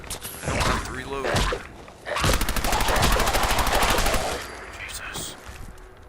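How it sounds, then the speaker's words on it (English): Submachine gun fire in Fallout 4 crackles in a long, dense automatic burst after a few short shots, loud and close, with someone talking over parts of it. "How much ammo do I have in my submachine gun?"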